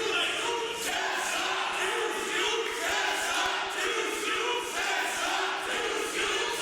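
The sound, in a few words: wrestling crowd cheering and chanting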